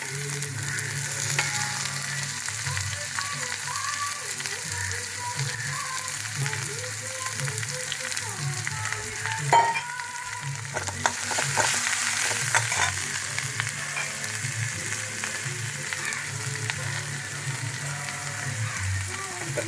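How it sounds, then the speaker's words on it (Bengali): Steady, loud sizzling of radish greens frying in a pan continues throughout, with occasional scraping and stirring sounds; no one speaks. "মূল শাকের সাথেই ও ভাজা হবে দিয়ে দিলাম শাকটা"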